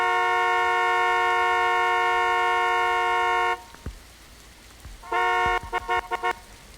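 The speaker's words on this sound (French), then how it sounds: "Ça fait du bien de retrouver son klaxon." Car horn in a video game: one long sustained honk, then after a short gap a burst of several quick toots, loud and clean over faint game ambience.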